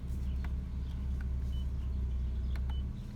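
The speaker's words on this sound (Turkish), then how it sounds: "Evet arkadaşlar aracımızı çalıştırdık." Idling just after start-up, a 2006 Mazda 3 1.6 Sport engine gives a steady low hum from close range, with a few faint clicks and beeps from the cabin over the constant drone.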